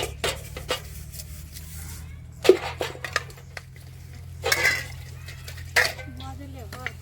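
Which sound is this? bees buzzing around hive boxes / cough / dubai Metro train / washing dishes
washing dishes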